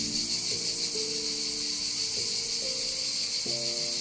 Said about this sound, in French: je sais pas si vous entendez bien, mais il y a des cigales de partout, c'est trop agréable